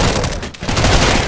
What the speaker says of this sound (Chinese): 两个人开支枪。